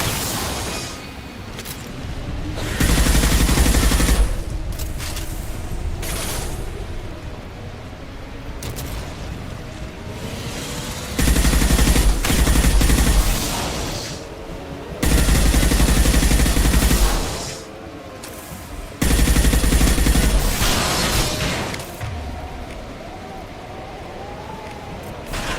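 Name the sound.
gunfire in Mass Effect 2 video game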